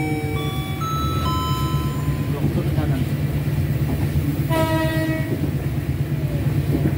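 The Kutojaya Selatan passenger train departing Kroya station in Indonesia rumbles along steadily with a low continuous drone, while a horn sounds in several sustained tones, first near the start and again later.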